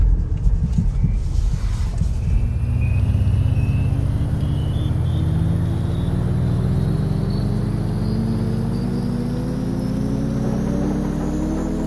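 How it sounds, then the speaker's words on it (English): A car drives steadily through traffic, its low engine rumble and road noise continuous and fairly loud, with passing vehicles sweeping by and no talking. "There's more traffic on the way."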